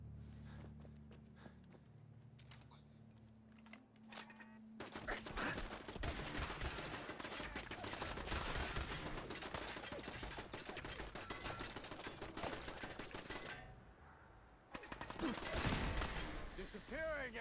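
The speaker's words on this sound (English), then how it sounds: "I hear gunfire." Gunfire in the video game Fallout: after a quiet stretch, sustained rapid bursts of automatic weapon fire rattle loudly for about ten seconds, pause briefly, then resume.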